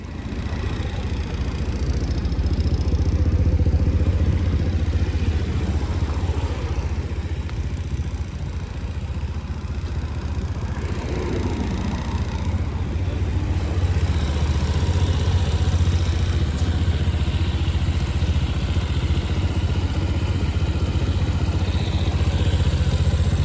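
A Grom clone 125cc motorcycle engine idling after a carburetor upgrade, a close, steady low putter with a mechanical clatter that holds evenly throughout without revving.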